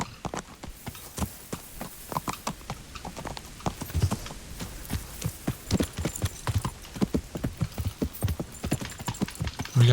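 Horse hooves clip-clop in a steady, brisk rhythm while riding in the medieval game Kingdom Come Deliverance, loud and close, with a louder thump near the end.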